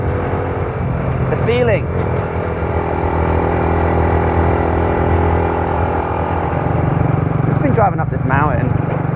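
A motorbike climbing a winding mountain road in Nan Province, Thailand, produces a steady, droning engine hum under constant wind, with a couple of brief rising revs and a short spoken phrase.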